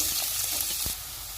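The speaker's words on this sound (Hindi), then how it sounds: "ऑयल गर्म हो गया, इसमें प्याज डाल देंगे और इनको हम 2 मिनट तक फ्राई करेंगे" Onions fry in hot oil in a pan, a dense close sizzle and crackle with one soft stir knock, easing slightly toward the end, no talk.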